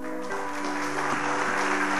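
Church congregation applauding during a sermon, a broad continuous clapping wash with a steady sustained tone running underneath, fairly loud and even throughout.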